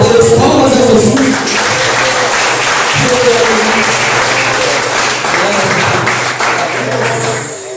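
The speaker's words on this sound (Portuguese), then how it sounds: "Glórias a Deus, palmas a Jesus" Sustained applause from a church youth service congregation, dense and steady clapping filling the whole stretch, with a low hum underneath and a murmur of voices.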